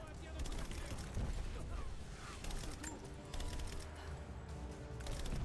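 A loud, dense burst of booming blasts and crackling debris from an explosive detonating in Rise of the Tomb Raider fills the clip, with continuous rumbling and talk mixed underneath.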